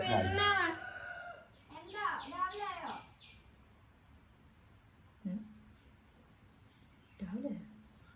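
A rooster crows twice in quick succession, loud and close, followed by a few quieter, shorter calls with pauses between.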